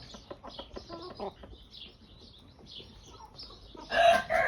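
Broody hens and young chicks peep and cluck softly in a coop, with a string of faint chirps and quiet clucks, ending in a louder squawking burst nearby.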